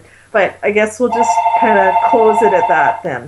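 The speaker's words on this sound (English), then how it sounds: "that's my phone" A telephone rings repeatedly at close range, its electronic trill running under a man's continuous speech.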